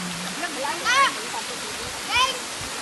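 Steady broadband rush of a provincial waterfall fills the whole stretch, with voices talking over it.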